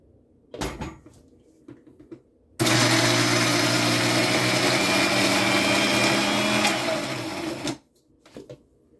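An electric mixer grinder whirs loudly and steadily for about five seconds as it blends ghevar batter with cold water for Rajasthani ghevar, with light knocks and handling sounds before and after the run and no talking.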